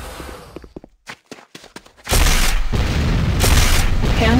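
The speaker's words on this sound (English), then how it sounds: "C4 is set. Fire in the hole!" A C4 charge detonates in the Renegade video game, a sudden loud boom after a run of short clicks and impacts, followed by a sustained roaring blast wash that lasts to the end.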